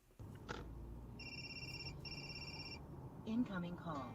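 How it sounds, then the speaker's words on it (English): A phone rings for an incoming call with a two-part electronic trill, clean and steady for about a second and a half, amid faint background noise and a voice starting afterward. "Incoming call. Press the pickup button to answer."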